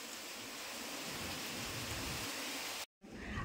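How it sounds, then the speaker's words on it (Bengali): Rain falls in a continuous hiss during cyclone Remal, a steady wash of drops on surfaces heard fairly faint and alone, ending in a short break before resuming. "বৃষ্টি হয়েছে গেছে আর ঝড়টাও বেড়েছে"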